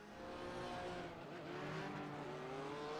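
Race cars in a BMW esports racing video game, with a continuous blend of engines rising in pitch at moderate loudness and no pauses.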